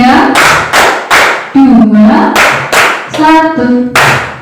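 A group claps in rhythmic bursts during a counting exercise at a teacher training session, each short volley of hand claps interleaved with voices chanting along in time.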